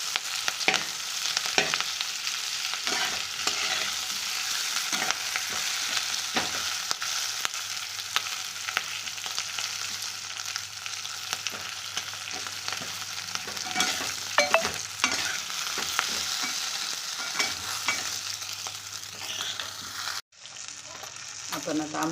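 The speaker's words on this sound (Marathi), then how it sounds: "हाय फ्लेमवर थोडी 2 मिनटं फ्राय करून घ्यायची." Green chillies fry and sizzle in a pan over a high flame, with a steady loud crackle and repeated stirring scrapes throughout, cut off by a brief gap near the end.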